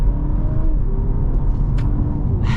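A 2024 Honda Civic Sport accelerating, heard from inside the car as a low engine hum and rumble with a faint rising whine, steady and moderately loud.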